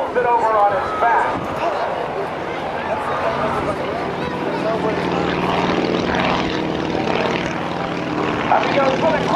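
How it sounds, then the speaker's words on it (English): A stock Stearman biplane with a 220 horsepower engine rolling over during an airshow routine at NAS Oceana, its propeller drone loud, rough and continuous throughout, swelling slightly at the end. "Up comes the stock Stearman and rolls it over on its back."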